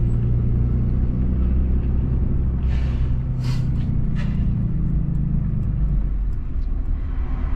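A 2020 Ram 3500 HO dually pickup towing a Cat D3 dozer on a trailer produces a loud, steady low road rumble with brief hissing bursts in the middle, heard from inside the cab.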